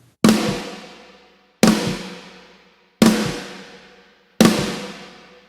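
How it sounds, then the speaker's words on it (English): Four evenly spaced snare drum hits, each followed by a long, booming reverb tail that decays slowly before the next strike. "it just makes the snare drum sound larger than life"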